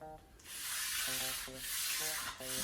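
Close, steady hand sanding of dry varnished wood with 240 grit sandpaper, in smooth back-and-forth rubbing strokes with light pressure, over a faint background tone.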